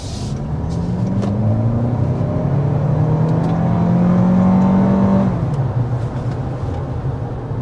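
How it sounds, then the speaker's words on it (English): A 2026 Toyota Crown Platinum accelerates hard uphill, heard from inside the cabin as a steady road roar with a motor tone climbing in pitch for several seconds before it eases off. "we need to go ahead and start with a hard acceleration."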